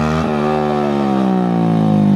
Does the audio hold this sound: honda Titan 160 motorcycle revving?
yes